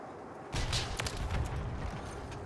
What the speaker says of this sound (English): he keeps shooting me